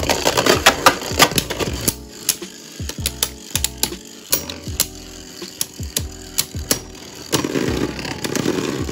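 Plastic Beyblade Burst tops, Cyclone Phoenix against Save Valkyrie, clack and scrape in a stadium with sharp repeated collision clicks and a steady whirring spin, loud and close, no voices.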